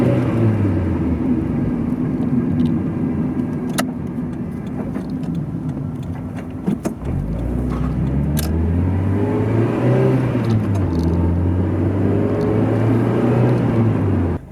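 Car driving on the road, a steady engine rumble inside the cabin that rises in pitch as it accelerates through the gears midway, continuous and close, with no talking.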